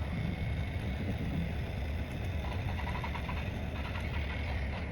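A microshading tattoo machine works on eyebrow skin, giving a steady, close, continuous motorized buzz with a faint rattling vibration and no pauses or voices.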